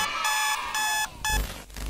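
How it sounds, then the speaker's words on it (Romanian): A bedside alarm clock rings at 6 a.m. in a house, a loud, harsh electronic tone sounding in steady repeated bursts with brief gaps. "Nu credeam că vreodată o să fiu așa de bucuros să aud alarma ceasului sunând."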